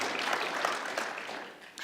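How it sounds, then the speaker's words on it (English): A conference audience at a finance talk applauds the panel guests in a short burst of steady clapping, moderately distant, tapering slightly near the end. "A round of applause for my guests, please"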